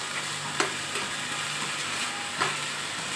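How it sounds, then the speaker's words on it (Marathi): Moth beans frying in a pan over high heat while being stirred, a soft steady sizzle with a few light scraping strokes of the spoon. "असं मस्तपैकी हलवून घेऊ"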